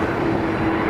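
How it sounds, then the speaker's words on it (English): Air Transat airliner at Manchester Airport, a steady, loud engine roar with a droning tone, heard close and continuous with no talk. "Oh, what an airplane to end off on."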